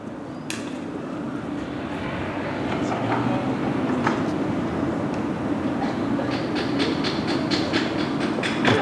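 A train at Lillehammer station in Norway rumbles steadily close by, with a continuous low roar and scattered clanks and clicks from the rail cars. Faint voices can be heard behind it.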